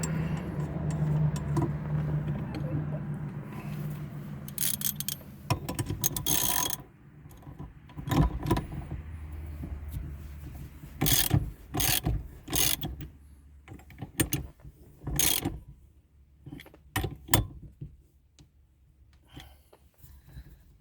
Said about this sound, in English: So now I'm going to put on the center nut and tighten it down.